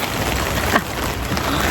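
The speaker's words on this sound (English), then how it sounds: "Oh my gosh, now it's starting to rain." Rain falls on a greenhouse in wild weather, a steady dense hiss of drops with a faint rumble underneath and no voices.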